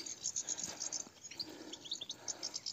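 A goldfinch sings rapid high twittering birdsong, a bright chattering trill repeated in quick bursts, fairly faint against a light background hiss.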